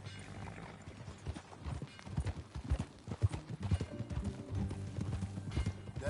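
Steady clip-clop of horse hooves trotting at a brisk rhythm in Red Dead Redemption, fairly close, with a faint mechanical jingle alongside.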